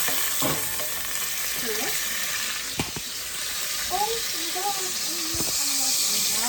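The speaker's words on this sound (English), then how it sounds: "I have put my butter into my pot, and I'm going to let it cook" Butter cooks in a pot before king prawns are added, giving a steady, soft sizzle throughout, with occasional utensil clinks and a brief spoken word.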